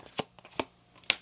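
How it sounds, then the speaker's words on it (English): A deck of oracle cards is shuffled by hand in three quick, close riffling bursts with short quiet gaps between them. "One more shuffle here."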